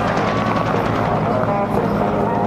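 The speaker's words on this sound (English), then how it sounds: "The Huey gunship also on the roll." A Huey gunship helicopter at an air show Vietnam re-enactment, its rotor and turbine drone steady and loud throughout, while a commentator talks over a public address system.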